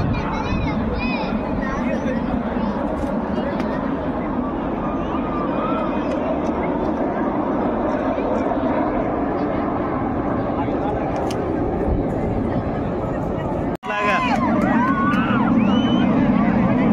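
Indian Air Force aircraft flying at an air show in Chennai, Tamil Nadu, create a continuous broad roar under steady crowd chatter, with people talking nearby throughout.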